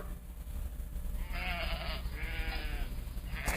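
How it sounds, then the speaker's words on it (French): Recorded sheep bleating played back, two drawn-out wavering bleats in the middle over a steady background hum, followed by the onset of a third at the end. "Mais là, je fais jouer les moutons parce que j'ai pas de chèvres."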